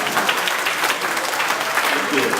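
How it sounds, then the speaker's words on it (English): An audience at a day-long expert discourse in Sanniquella, Nimba County, Liberia claps in a dense, steady round of applause that runs throughout at an even level, with no pauses. "One round of applause."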